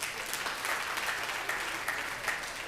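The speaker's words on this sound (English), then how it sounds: "Can we give ourselves a round of applause?" An audience at a township economic outreach programme gives itself a round of applause, a steady, even wash of clapping from a crowd heard at moderate distance and fairly low level, without a break.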